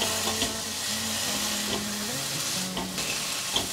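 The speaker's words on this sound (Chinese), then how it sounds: "锅内放入适量的油，把马铃薯丝放进来，地瓜丝也放进来" Shredded potato and sweet potato stir-fry steadily in hot oil, with a continuous close sizzle and occasional scrapes of a spatula against the pan.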